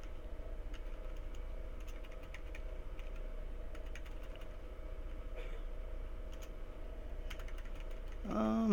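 Keys clatter on a computer keyboard in quiet, irregular bursts of soft close taps over a low steady hum, with a brief louder noise at the very end.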